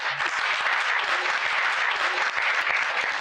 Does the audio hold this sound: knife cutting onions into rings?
no